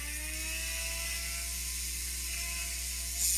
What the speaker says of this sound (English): Ooh, I have a way dull drill bit.